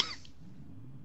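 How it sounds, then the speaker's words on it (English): A single short, harsh smoker's cough bursts out at the very start and fades into quiet room tone within a fraction of a second. "Smoker's cough."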